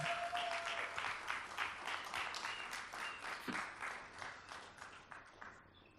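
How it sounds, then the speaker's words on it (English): A film-screening audience applauds the movie's guests at a Q&A, a sustained, fairly faint wash of clapping from many hands that gradually thins toward the end. "Let's give a round of applause for them."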